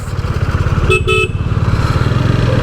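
A Bajaj Dominar 400 motorcycle rides through Patna city streets at night with a loud, close, steady pulsing engine note, interrupted by a short double horn toot.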